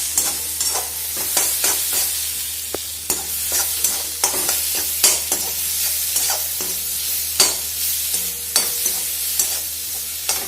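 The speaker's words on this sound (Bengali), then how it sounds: "লাল শাক রান্না করছি আজকে" Red amaranth greens cooking in a pan at home, with a steady sizzle broken by repeated sharp scrapes and clatters of a spatula stirring, close and fairly loud, with no talking.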